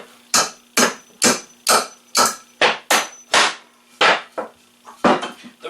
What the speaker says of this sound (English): The reason I'm hammering here